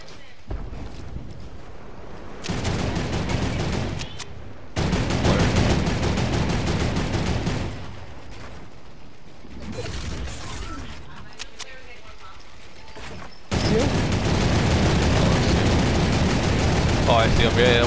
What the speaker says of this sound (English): we're shooting at it right there